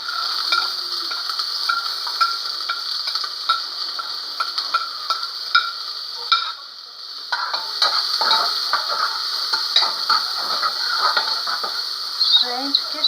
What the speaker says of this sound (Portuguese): que cheiro gostoso de cebola e alho fritando